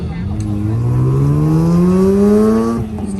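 A naturally aspirated 1.3-liter rotary engine in a Mazda RX-8 on an autocross course winds up steadily, its rising harmonics climbing for nearly three seconds before dropping off, loud and close.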